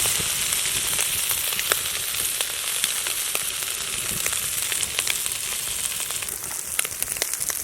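Prawns fry in hot oil in a wok, giving a steady, dense sizzle with scattered crackles and pops throughout, close and even in loudness, with no talking.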